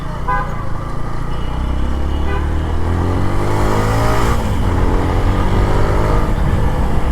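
A motorcycle engine runs steadily and loud throughout, its drone rising in a rev near the middle, close to the microphone on a road trip to the Uttara BRTA office for number-plate processing.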